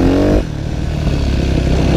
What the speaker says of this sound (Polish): Będę strzelać z klamy z drugiego biegu przy takim 20 gdzieś na godzinę.